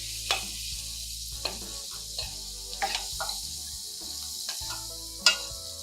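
Oil sizzles steadily in a pan as onions and curry leaves fry in a tempering for poha upma, with scattered crackles and occasional sharper pops, fairly quiet and without talking.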